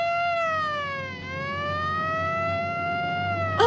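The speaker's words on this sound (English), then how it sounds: "Uh-oh, Rip Taylor gave them the siren." A wailing siren holds a steady tone, dips slightly in pitch and rises again, loud and continuous throughout.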